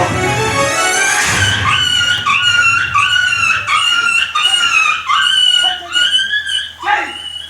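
A dog barks during an Odia jatra stage drama with a series of loud, close, pitched yelping barks that come in quick bursts and rise and fall, with stage noise underneath.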